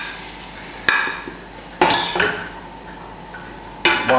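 Browning mince being stirred in a pan for a low-calorie shepherd's pie, with a few sharp clanks of the utensil against the pan over a soft, steady sizzle, close and fairly quiet.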